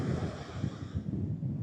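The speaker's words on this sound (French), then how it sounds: "Il y a un vent à décorner un bœuf." Strong wind buffets the microphone on the beach at Rayol-Canadel, a steady low roar with gusty swells and faint surf beneath, no voices.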